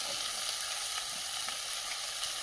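Taro with tomato and raw onion sizzles steadily in a pan, a close, dense crackle of frying with faint stirring scrapes and no talking.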